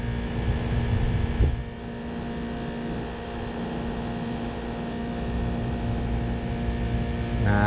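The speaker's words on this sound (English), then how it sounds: "Still not pulling the blower. Or the condenser fan. Just straight compressor at this point." HVAC unit compressor running on its own with the blower and condenser fan idle: a steady, loud broadband hum with a low droning tone, continuous throughout with a brief bump early on.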